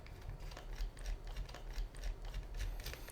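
A small screwdriver backs out screws from the rear cover of a robot car kit, making quiet, rapid ratcheting clicks in an even rhythm, close up with no voices.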